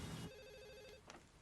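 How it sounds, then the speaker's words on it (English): A telephone bell rings in a short electronic trill lasting about a second, then stops, followed by a brief faint click amid room noise. "That's the phone."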